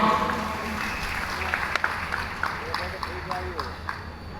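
Audience applause at a live event, a crowd clapping steadily at moderate distance with scattered sharper claps, continuing under someone speaking over a microphone.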